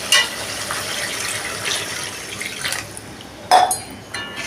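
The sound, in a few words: water poured into fried spice masala for kofta curry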